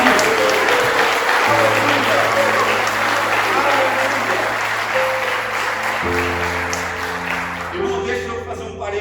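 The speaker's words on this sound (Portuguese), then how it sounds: "Se eu fosse você, eu aplaudi o nome dele nesta noite." Church congregation applauding during a Sunday celebration service: a loud, sustained wash of clapping throughout, with sustained tones, likely music, playing underneath and fading near the end.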